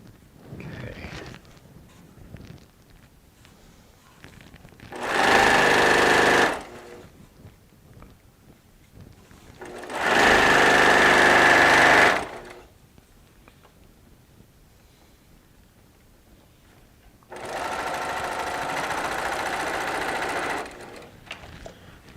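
A sewing machine sews quilt seams of Tula Pink charm squares and strips in three separate loud, close bursts of two to three seconds each, with quiet pauses between.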